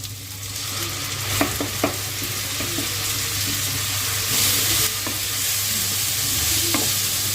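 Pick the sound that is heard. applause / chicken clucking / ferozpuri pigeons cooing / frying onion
frying onion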